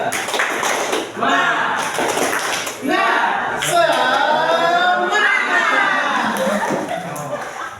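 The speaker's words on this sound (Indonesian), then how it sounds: "kalau tahu kita bareng-bareng tepuk semangat" Schoolchildren in a classroom do a rhythmic spirit clap, with patterned bursts of claps mixed with lively chanting and speaking voices, close and fairly loud.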